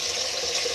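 Tap water running steadily into a kitchen sink while a brush is washed, a brief, close, continuous splashing hiss.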